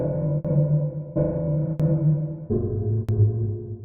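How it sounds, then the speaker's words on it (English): Sustained synthesizer notes from the Bitwig 2.4 sampler step between pitches with a lingering post-reverb wash, punctuated by a couple of sharp clicks. "I have this post reverb"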